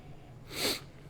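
A single deep sniff through the nose, a brief breathy burst that swells and fades over about a third of a second, close and fairly quiet, with no talking.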